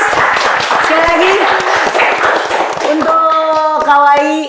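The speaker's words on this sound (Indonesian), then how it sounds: "Tepuk tangan dulu guys" Audience applause at an Indonesian talk event, dense clapping running throughout at a steady level while a voice talks over it and sustained tonal notes rise near the end.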